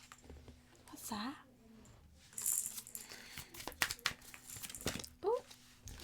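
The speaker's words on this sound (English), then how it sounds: "cards are flying out" Tarot cards are shuffled and several spill out of the deck, making quiet scattered slaps, clicks and papery rustles up close, with a soft voice briefly heard.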